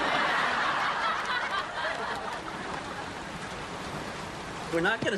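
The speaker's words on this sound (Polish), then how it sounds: "Zaczyna padać." Steady rain falls in a broad, even hiss that fills the whole scene, with a brief higher sound near the end.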